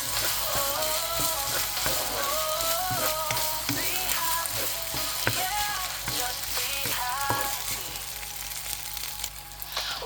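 Homemade ham frying in a pan for fried rice, a steady close sizzle with scattered crackles and light clinks of stirring, continuous for about ten seconds with no talk.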